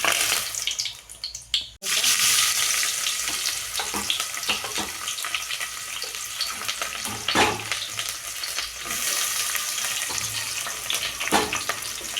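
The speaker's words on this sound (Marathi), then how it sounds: "तेल आता कडलेलं आहे तर याच्यामध्ये मी हे तीन तमालपत्र टाकून घेते" Three bay leaves dropped into hot oil sizzle steadily, a brief hush near the start, then continuous crackling with occasional louder pops.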